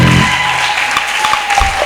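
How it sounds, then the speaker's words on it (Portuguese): A church congregation claps loudly together in a dense, continuous burst of applause during a worship service, with a brief lower murmur at the start and no clear talk over it. "Aplaudimos fortemente para a glória de Jesus."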